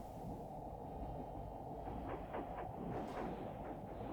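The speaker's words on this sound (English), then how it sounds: "This is the sound of a full-fledged destroyer." Destroyer engines picked up on a submarine hydrophone in Silent Hunter 3, a low, continuous rumbling churn with faint rhythmic beating, muffled as if heard underwater, and no voices.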